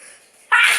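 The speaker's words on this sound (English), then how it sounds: "I'm the one sneezing here while I'm recording." One sudden, close, sharp sneeze bursting out after a brief quiet breath-in, loud and hissy, with no words spoken.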